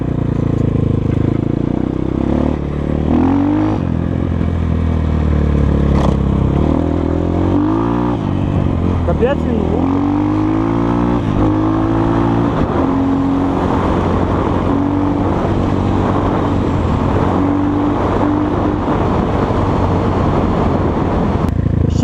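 A KOVI Advance 250 motorcycle engine runs with a gruff, throaty exhaust, idling and revving in rising and falling surges, loud and close, with someone briefly speaking.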